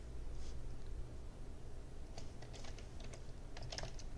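Keys on a computer keyboard tapped in short scattered bursts, fairly faint over a steady low room hum, with no talking.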